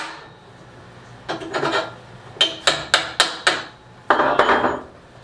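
A hammer drives a cold chisel into a wooden pallet with a series of sharp metallic strikes. There are two early blows, then a quick run of four or five evenly spaced hits and a last heavier ringing strike, all close and loud.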